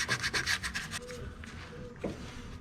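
Sandpaper rubbing surface rust off a Mercedes ML320/ML430 (W163) front brake caliper, a quick run of close, rhythmic abrasive strokes that then thins to softer, intermittent scraping.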